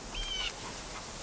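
A jay calls once, a thin high whistled note near the start, faint against quiet outdoor ambience.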